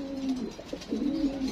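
Fancy and high-flyer pigeons at a sale cooing close by, a couple of soft throaty warbling coos in quick succession with no voices over them.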